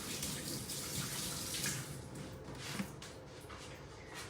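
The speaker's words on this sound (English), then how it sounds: "I'm going to quickly wash my hands." Tap water running steadily into a sink while hands are washed, a continuous close splashing flow with slight changes as hands move under the stream.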